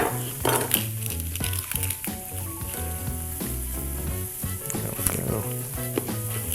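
Fat renders down in a pan while making shrimp cocodrie, giving a continuous crackling sizzle under steady background music, with no talking.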